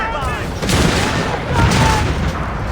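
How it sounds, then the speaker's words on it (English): Explosions and gunfire in Company of Heroes 3, a World War II strategy game played as the Wehrmacht: loud booms and bursts of shooting rumble together over a continuous battle din. "Oh, that is an explosion, I think."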